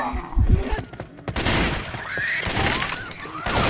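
Gunshots aimed at a Boomer in Left 4 Dead 2, a few sharp bursts among a busy wash of game noise, one loud crack midway and another at the end.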